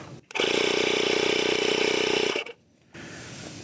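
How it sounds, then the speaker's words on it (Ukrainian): A Continental D30165 air compressor, freshly repaired, kicks on and runs with a loud, steady buzzing drone for about two seconds, cuts off abruptly, then a softer hiss continues. "Він запускається сам компресор."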